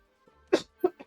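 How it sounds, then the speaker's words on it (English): A short burst of coughing from a player during a Marvel Rivals collegiate match, with two or three sharp, close coughs in about a second, heard alone. "I have to cough again."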